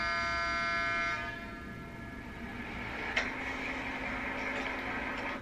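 A loud electronic fire station alarm tone at Erottaja station in Finland, with a harsh buzzing drone for about a second, then a softer steady tone and a brief click.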